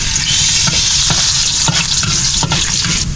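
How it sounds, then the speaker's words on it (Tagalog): Garlic sizzling and frying in a hot pan, stirred with a utensil, giving a loud, steady close-up crackle with a few scraping knocks against the pan and no talk. "Tapos lagay ko na yung bawang."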